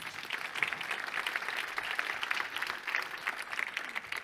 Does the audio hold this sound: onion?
no